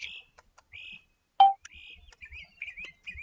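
Short bird chirps and whistled calls rise and fall in bursts, some near and clear, with a louder sharp call midway and low background rumble; people speak quietly in the background.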